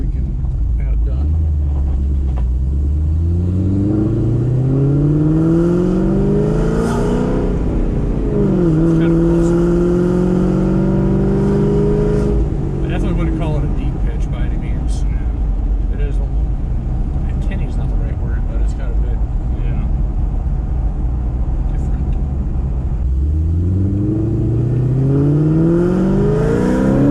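A 2007 Shelby GT500 with cams, Kooks long-tube headers, an X-pipe and stock mufflers revs repeatedly, its loud, deep exhaust rumble climbing and falling in sweeping pitch over a constant idle drone.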